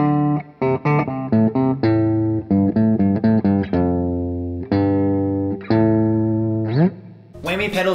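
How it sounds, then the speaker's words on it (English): Electric guitar through an octave pedal set two octaves down plays a riff with a heavy, very low doubled tone; notes are clipped and sustained in turn, closing with a short noisy flourish. "here's an example of an Octave pedal going two octaves below your original sound"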